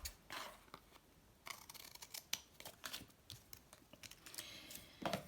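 Scissors snip through scrapbooking paper and card for a tag, a quiet, close series of irregular crisp cuts and rustles lasting a few seconds.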